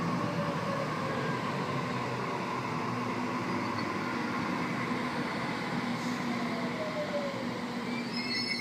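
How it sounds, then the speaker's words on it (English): A Sydney S set electric train pulls away from a platform with a continuous loud rumble of wheels and motors, steady throughout, with faint squeals and tonal whines layered over the roar. "S123 now departing platform 1 Campbelltown service."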